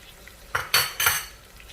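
Mutton karahi being stirred in a pan just after a splash of milk goes in, giving three short scraping, sloshing strokes over a faint background.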